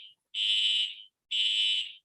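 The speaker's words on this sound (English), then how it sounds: "oh no, is it fire alarm?" A building fire alarm sounds two loud, sustained electronic beeps in a row, each lasting about half a second with a short gap between, clear and alone.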